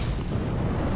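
Explosion in the video game Dark Souls 3 during a fight against turrets, a sustained low rumbling boom that fills the whole moment with heavy, steady bass.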